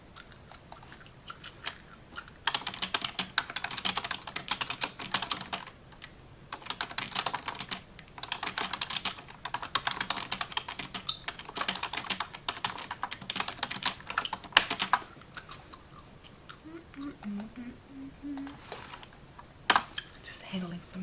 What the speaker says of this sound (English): Y'all didn't know I could type so fast